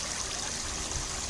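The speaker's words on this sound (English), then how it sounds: "This shows the water spraying on the surface" A pump-fed spray head showers water back onto a raw water surface for aeration, giving a steady, hissing splash and trickle that stays even and close throughout, with no talking.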